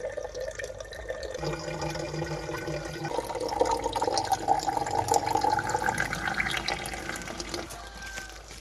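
Water trickling and dripping into a filling container on a Sundarbans island, close and continuous, the flow shifting in pitch as the vessel fills, with faint talk in the background.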